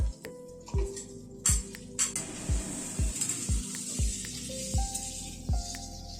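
Vegetables for dal are sautéed over a medium gas flame, a soft sizzle running beneath sharp clanks of a spoon stirring against the pot at a steady, unhurried pace.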